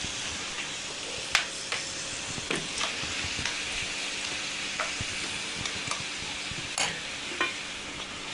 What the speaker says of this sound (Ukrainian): я вкидаю порізану цибулю і моркву